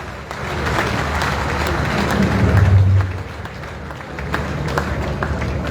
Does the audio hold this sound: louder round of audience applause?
yes